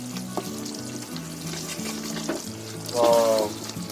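Chicken Patiyala gravy simmers and sizzles in a pan as it is stirred, a soft bubbling fry with a brief louder splash of liquid near the end over a low background hum.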